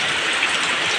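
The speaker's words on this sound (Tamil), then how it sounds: "எங்கள் ஊரில் மழை பெய்யுது." Steady rain falls outdoors in a village as a shower begins, a continuous even hiss of drops with no pauses and no voices.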